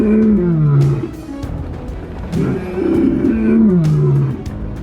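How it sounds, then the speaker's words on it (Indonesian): A male lion growls loudly and close by, two deep, rumbling growls that rise and fall, the second longer and more drawn out. "ada salah satu singa jantan yang menggeram kencang"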